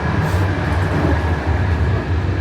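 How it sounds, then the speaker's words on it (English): A Bulgarian train on the Gabrovo–Sofia line rushes along the rails at speed, a loud steady rumble with a constant high whine and rattling underneath. "This is Bulgaria's version of a fast train"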